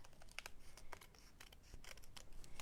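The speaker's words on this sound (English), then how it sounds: "I'm just going to use my scissors and trim" Scissors snip and trim the edges of a sheet of cotton paper, a series of crisp, close cuts and paper rustles in an irregular rhythm at moderate loudness, with no talking.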